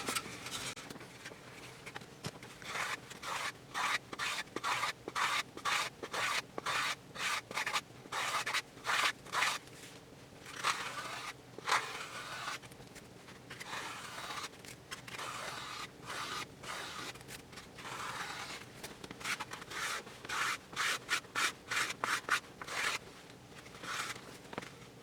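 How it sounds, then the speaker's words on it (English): Sandpaper strokes back and forth along the leading edge of a small model airplane wing, making rhythmic close rasping scrapes in quick bursts with short pauses between sets. "What I'm doing is I'm moving the sandpaper front and back"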